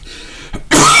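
A person gives a brief, harsh cough at close range, a short burst that cuts off abruptly, with no talking around it.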